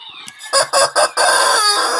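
A rooster crows loudly and close, with a few clipped opening syllables and then a long, sustained bright call. It sounds alone, with no talking.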